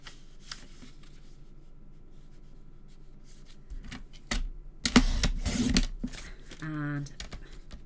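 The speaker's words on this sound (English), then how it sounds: "Let's get another piece of cardstock cut." Cardstock being cut with a paper trimmer, a short scraping slice heard after quiet handling and shuffling of paper, with a voice speaking near the end.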